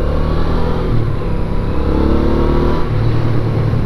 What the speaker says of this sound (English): that is a fantastic little engine.